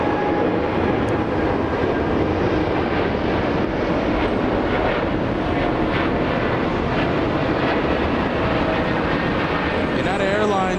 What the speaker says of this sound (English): United Airlines 787 Dreamliner flying to Denver, Colorado 787-9.